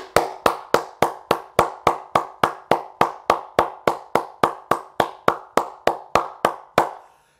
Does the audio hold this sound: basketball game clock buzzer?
no